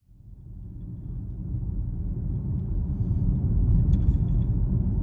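A 2023 Porsche Macan S pulls away and drives, its engine and road noise a low, steady rumble that swells and grows louder over a few seconds.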